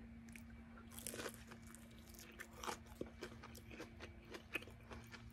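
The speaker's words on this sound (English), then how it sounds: "Feel that crunch?" Crisp crunching bites into a crunchy chicken nugget dipped in sweet chili sauce, a series of close, fairly quiet crackles and chews over a low steady background hum.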